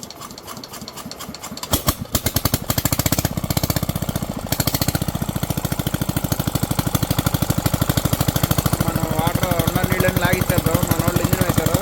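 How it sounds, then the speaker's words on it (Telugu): A small engine pumping water out of a muddy pond for fishing starts up after a couple of seconds and then runs with a loud, rapid, steady chugging beat close by, while people talk over it. "మన వాళ్ళు ఇంజిన్ వేశారు"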